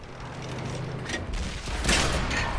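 Tank guns fire in World of Tanks, giving two or three loud booming shots with mechanical clatter in between, the last blast the strongest.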